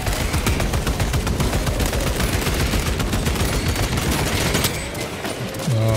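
Dense, continuous gunfire from a Warhammer 40K Space Marine 2 firefight, loud and close, rapid volleys overlapping for about five seconds before a brief lull and a final burst.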